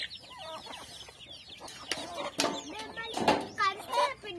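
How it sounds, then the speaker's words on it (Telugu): Backyard chickens clucking while grain is scattered for them, a cluster of close, uneven clucks and squawks mixed with a voice and other talk nearby. "కోళ్ళకి ఇత్తులు వేస్తుంది మంచిగా."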